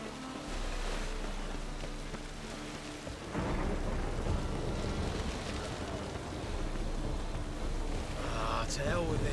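Steady rain hisses throughout in The Witcher 3 while thunder rumbles low and swells louder partway through, with no voices.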